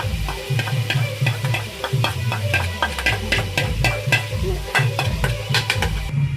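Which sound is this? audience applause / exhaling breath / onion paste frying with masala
onion paste frying with masala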